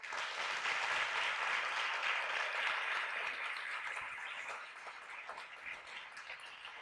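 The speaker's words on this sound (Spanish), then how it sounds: "Qué aplauso más innecesario que me he llevado." Audience applause after a short talk at a school TED-style event, a dense sustained clapping that holds steady for several seconds and then slowly thins out, with no voices over it.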